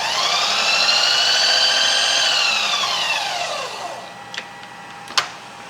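A machine takes a 50-thousandths cutting pass on metal dies. A loud, sustained whining cut slowly drops in pitch and fades out, followed by a couple of sharp metallic clicks near the end.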